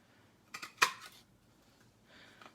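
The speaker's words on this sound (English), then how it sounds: "I'm going to bring my punch in now" A craft paper punch cutting flower and leaf shapes, giving a couple of sharp clicking crunches in quick succession and then a softer rustle, close and otherwise quiet.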